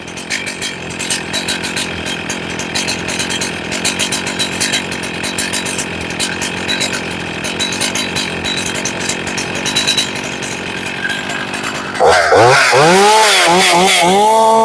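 A chainsaw engine runs steadily while its carburetor idle is leaned out and adjusted, a loud buzzing two-stroke drone that shifts near the end into a warbling rise and fall of engine pitch.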